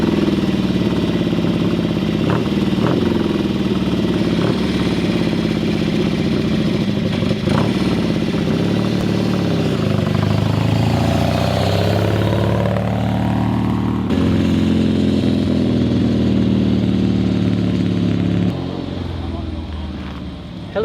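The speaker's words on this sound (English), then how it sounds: "Hell of a bike, isn't it?" A motorcycle engine runs close by as a loud, rumbling drone. Its pitch swoops up and down midway, and the sound cuts off near the end. People talk over it.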